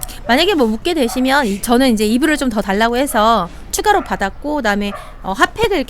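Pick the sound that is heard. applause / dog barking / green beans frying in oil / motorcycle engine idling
dog barking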